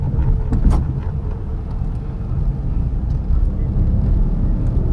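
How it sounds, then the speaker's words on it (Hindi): A Tata Nano's small engine running on CNG drones steadily, heard from inside the car at night, with a low rumble and a slightly uneven, coarse texture throughout. "सीएनजी पे आवाज़ आता है थोड़ा इंजन का"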